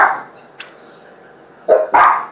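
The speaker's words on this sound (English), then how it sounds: "The dogs are barking." A dog barks once, then a quick pair of loud barks follows after a pause, fairly close with quiet background in between.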